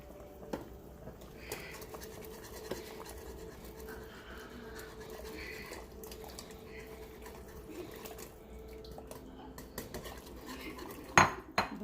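Flour is stirred quickly into a cooking pot for old-fashioned chicken and rice, a utensil scraping and clinking against the pot in irregular strokes, fairly faint over a quiet kitchen background, with a sharp clatter near the end.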